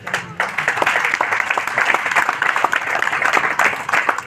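Enthusiastic audience applause greeting a guest, a Delhi Police inspector, at an SSD community gathering in India, a dense rapid patter of many hands that continues for several seconds at fairly close range with faint voices underneath.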